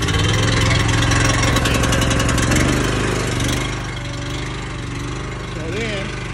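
The engine on a leaf trailer conveyor belt system starts up and settles into a steady idle, loud and close, a dense rumble that eases lower after a few seconds while a person speaks briefly near the end.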